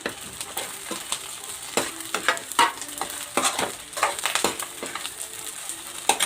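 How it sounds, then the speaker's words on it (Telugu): A spatula stirs and scrapes boiled eggs frying in a pan with spices. Rhythmic, close scraping strokes repeat over a constant oily sizzle, with no talking. "ఇప్పుడు మొత్తం వేసేసుకొని అంతా కలిపేసి ఒకసారి మిక్స్ చేసేసుకోండి"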